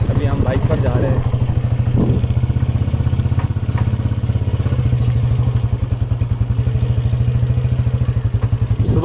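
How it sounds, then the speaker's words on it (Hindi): A motorcycle ridden along a rural road in the early morning, its engine chugging steadily and close with a rapid regular pulse and rattling clatter throughout. "तो अभी हम बाइक पर जा रहे हैं।"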